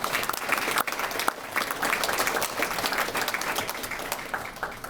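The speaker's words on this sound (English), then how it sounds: "So let's give those three students a round of applause." An audience applauds three elementary school student winners at an evening awards event, a sustained burst of dense clapping from many hands in a room that thins slightly toward the end.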